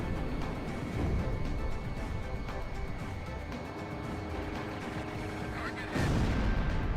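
Rapid gunfire rattles in the Ace Combat X jet dogfight, layered over a steady roar of engines, with a louder burst near the end and a voice speaking in the mix.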